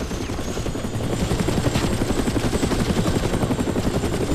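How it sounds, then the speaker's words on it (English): A gunship helicopter from the video game Far Cry Instincts flies close by, with a steady, loud rotor thump and engine roar throughout and no speech. "Ah, stupid gunships again."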